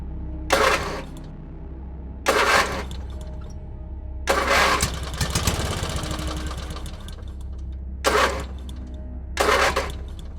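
An engine cranks in repeated short bursts, one longer grinding attempt in the middle, over a steady low hum, never quite catching.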